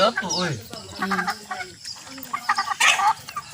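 Chickens on a farm with pigs cluck and chatter close by, with a person's voice mixed in among the bird sounds.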